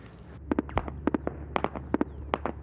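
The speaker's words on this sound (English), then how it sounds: "Sounds of both coalition fighter jets and incoming gunfire filled the air." Sharp cracks and pops of distant gunfire in irregular bursts, a dozen or so shots over a low steady rumble, with no talking, during fighting in Baghouz, Syria.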